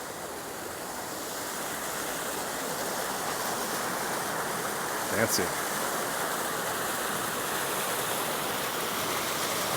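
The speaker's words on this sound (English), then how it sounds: "It's a cool feature how they pour into these pots." Water from a resort fountain pours steadily into decorative pots, a constant broadband splashing rush close by, with a brief voice heard over it partway through.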